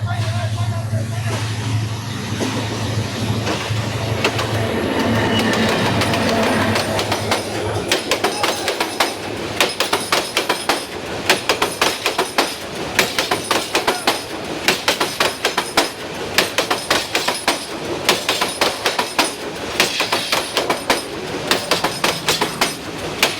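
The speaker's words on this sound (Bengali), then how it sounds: "ওই যে আপনার ট্রেন দেখা যাইতেছে।" A train passes through Sreemangal with a rhythmic clickety-clack of wheels on rail joints that grows loud and steady over the second half, over a low rumble and with people talking.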